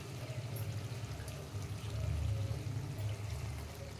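Water is poured into a pan of chicken and tomato sauce, a steady low splashing pour that swells midway and carries on to the end.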